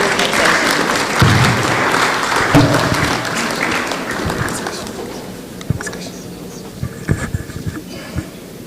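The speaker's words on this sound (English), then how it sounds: "please give her a round of applause as she comes to take us into this next session" Audience applause at a GVCA 2024 conference session, a dense, loud round of clapping that fills the room and then thins into scattered claps and fading noise toward the end.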